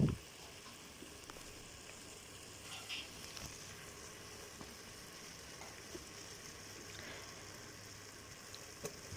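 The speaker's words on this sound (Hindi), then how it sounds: "हम लोगों ने इसे इसके अंदर 10 से 15 मिनट के लिए अच्छे तरीके से फ्राई करना है" Pieces of mutton for namkeen gosht frying in a pot in their own fat, a faint, steady sizzle and crackle running throughout with a few small pops, quiet and unaccompanied.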